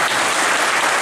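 A church audience at a barrel organ concert in St. Nicolai church, Wittmund, claps in a dense, loud burst of applause, many hands blending into a steady roar without voices.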